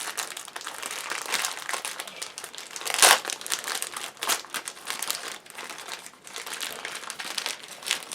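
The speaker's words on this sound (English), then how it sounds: "one day I'm going to open these in advance and open the packaging. Okay, so the plastic is tough." Tough plastic packaging of a cheap 4D puzzle model kit of an AT99 Scorpion tank being opened, heard as steady close crinkling and crumpling with one sharper tearing crackle, no voices.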